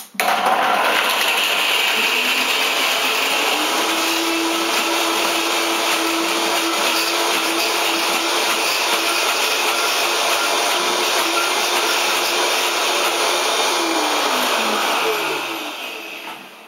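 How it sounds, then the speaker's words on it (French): A blender mixing a creamy curry sauce of sprouted red lentils runs with a loud, steady whir almost nonstop for about fifteen seconds, its pitch dipping slightly near the end before it winds down and stops. "Maintenant, je vais mixer. Attention, je vais faire du bruit."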